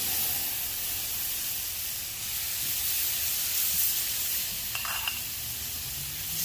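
Shrimp sizzling on a hot flat top griddle, a steady broadband hiss of frying that holds evenly throughout, fairly close, with no one talking.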